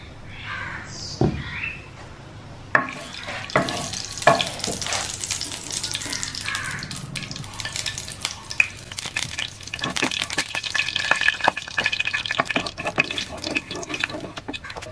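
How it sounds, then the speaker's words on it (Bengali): Ghee heats in a pan for semolina halwa with cardamom pods added, crackling and sizzling steadily for the whole stretch with sharp louder pops, close and growing busier toward the end. "ঘিটাকে হালকা গরম করে নিলাম।"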